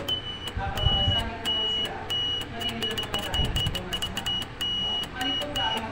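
A high electronic continuity tester buzzer beeps in quick, irregular bursts while checking a relay in a CRT TV, some short and some held, close to the microphone with faint background noise.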